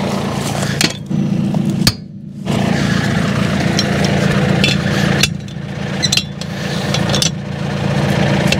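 Irrigation pump unit engine idling nearby with a steady low drone, interrupted by a few sharp knocks and clanks.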